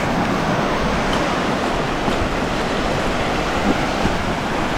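Sea waves wash continuously onto a beach, a steady broadband roar with no distinct breaks, loud and close throughout.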